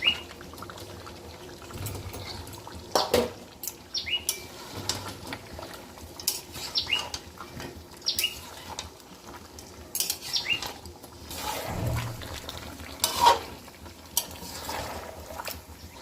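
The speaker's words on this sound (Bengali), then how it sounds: "ডাল আর আলুটা দিয়ে দেব।" Lentils and potatoes tipped into a pot of mutton curry, with scattered pattering drops, soft stirring and a few sharp clinks and scrapes spread over about sixteen seconds, close and fairly quiet with no talk.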